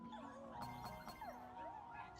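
Cartoonish puppies yip, whimper and bark in a Honkai: Star Rail minigame, a series of short, bright, cute calls over a soft background music bed, fairly quiet.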